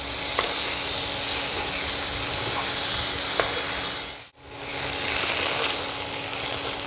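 Stuffing for a stuffed ash gourd dish, seasoned with salt and sugar, sizzles and hisses steadily in a hot pan, with a brief dip in the sound partway through.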